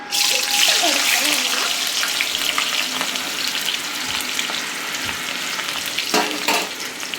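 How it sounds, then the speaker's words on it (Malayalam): Frozen potatoes fry in hot oil, a loud, close, continuous bubbling sizzle that eases slightly after the first moments and carries on without pause. "ഇനി നമുക്ക് നമ്മുടെ പൊട്ടറ്റോസ് ഫ്രൈ ചെയ്തെടുക്കാം കേട്ടോ"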